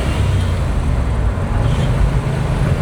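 Steady low engine rumble of a 1957 Chevy Bel Air pulling through a smooth shift into second gear, continuous and close from inside the car with no gaps.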